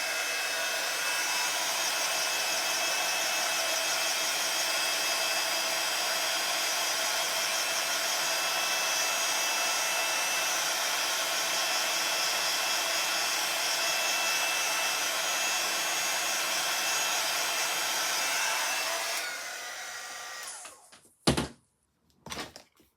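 A hair dryer or heat tool runs steadily and loudly for about nineteen seconds while drying a stamped Christmas card, then switches off, followed by a few sharp knocks.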